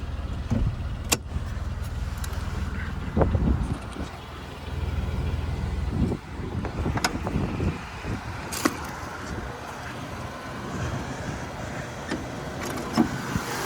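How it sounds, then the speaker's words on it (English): A Buick Reatta's 3800 Series 1 V6 cranks and catches, then settles into a steady low idle with occasional clicks and knocks nearby. "This thing starts up so well."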